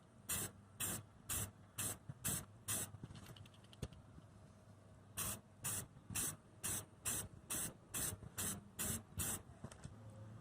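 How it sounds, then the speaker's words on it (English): A can of automotive primer hisses in short repeated bursts onto a car's rust repair spot, about six quick sprays, a pause, then roughly a dozen more in a steady rhythm, close by. "here is some automotive primer, and I'm just going to get in and spray the areas"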